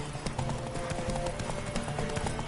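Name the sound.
horse galloping hooves in video game The Witcher 3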